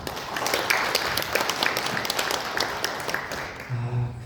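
Steady applause from a crowd at a local residents' briefing on Incheon Airport construction compensation, dense and continuous, fading slightly near the end as a voice starts to come in.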